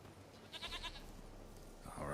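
A goat bleats briefly in The Witcher 3: Wild Hunt, a wavering cry in the middle and another starting at the end, moderately loud over a quiet ambient background.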